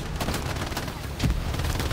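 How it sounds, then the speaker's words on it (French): Grenade blast and battlefield gunfire in Hell Let Loose, a dense crackle of distant shots with a heavier low thump about midway, no clear speech. "j'ai détruit un AP à la grenade"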